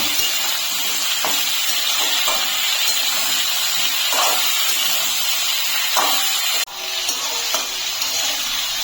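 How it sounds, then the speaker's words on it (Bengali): Papaya pieces fry in a pan with a loud, hissing sizzle close by, with a few stirring knocks and a sudden brief drop partway through. "এখন আমি পেঁপেগুলোকে একটু ভেজে নেব।"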